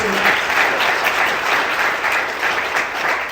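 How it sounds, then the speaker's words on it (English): A studio audience applauds continuously through the whole stretch, a dense, even wash of clapping with some crowd noise mixed in. "Give them a round of applause."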